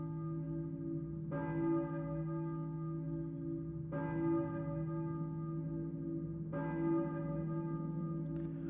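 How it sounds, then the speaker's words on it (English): Church bell tolling in the Silent Hill video game, three slow resonant strikes spaced about two and a half seconds apart, each ringing out over a low sustained drone with no voices. "I hear a church bell, maybe? Who's ringing the bell?"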